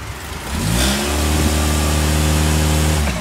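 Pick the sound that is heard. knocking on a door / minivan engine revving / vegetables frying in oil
minivan engine revving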